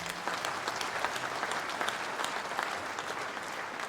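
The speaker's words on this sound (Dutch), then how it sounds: "zullen we in ieder geval even een applaus geven voor die prachtige blok" A crowd at an open-air church service during the Admiraliteitsdagen applauds with steady, dense clapping throughout, moderately distant and with no talk over it.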